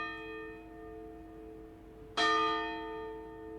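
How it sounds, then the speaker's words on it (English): Bell chiming to mark the park's closing in the video game Genso Manege, a sustained resonant tone that rings on, then a fresh louder strike lands and decays with shimmering overtones. "A bell chimed, sounding the closing of the park and the drowning of my words"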